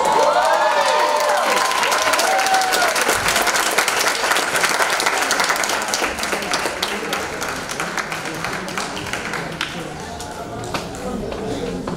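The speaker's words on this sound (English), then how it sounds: "Another round of applause for the Mount Vernon Federation." Sustained applause from a high school graduation audience for a scholarship award, dense clapping with scattered cheers and shouts throughout, gradually easing in the latter half.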